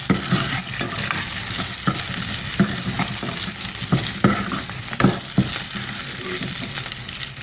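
Onions fry in oil for a mango sambar tempering, giving a steady close sizzle punctuated by regular spoon clacks and scrapes against the pan as they are stirred.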